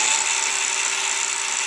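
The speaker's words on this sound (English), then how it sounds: "Now all I've got to do is cut it and drill it." A power tool cuts into metal for a gate, a loud, steady high-pitched whine held close and continuous, with no one speaking.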